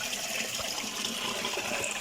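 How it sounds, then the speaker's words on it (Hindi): Water rushes steadily in a stream near a village in Barh, Kohat, a constant broadband wash of flowing water, close and unbroken, with no voices. "वो फ्लो के साथ पानी आगे चल रहा है"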